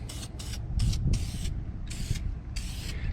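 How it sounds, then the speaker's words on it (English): A spray can lays a light tack coat on a 1995 Ford F150 truck dashboard in six short hissing bursts of varying length, close by, over a low background rumble. "do a light tack coat first, and then we can go back here and do a thicker coat, and it won't run."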